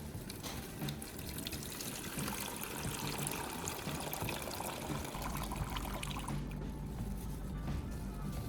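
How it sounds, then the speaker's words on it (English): Water is poured to rinse out an old lead-acid battery after a baking soda cleaning, giving a steady, close, continuous splashing and gurgling pour that lasts the whole stretch. "Another thorough rinse with water is necessary now to remove all traces of the baking soda solution from inside the battery."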